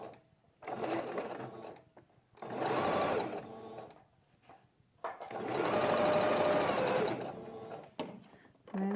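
Sewing machine stitching the side seams of a fabric N95-style mask, whirring in three separate runs of rapid, steady needle clatter with short pauses between them, close by, while a person speaks in the gaps.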